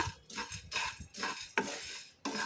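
Toor dal and spices dry-roast in a pan while a spoon stirs, a series of close scraping, rattling strokes in an uneven rhythm, fairly quiet, with no speech.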